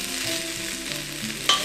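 Rice being lightly stir-fried in a pot for vegan taro porridge: continuous scraping and stirring with a soft sizzle under steady background tones, ending in a brief brighter clatter.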